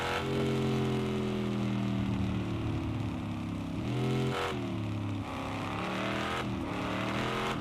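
A red flatbed truck in the video game Tornado: Research and Rescue drives and drifts, its engine droning steadily with pitch dips and surges as it slides, loud and continuous with no talk.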